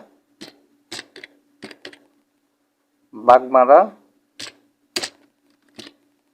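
Single keystrokes click on a computer keyboard, spaced and sparse, with a short spoken phrase in the middle.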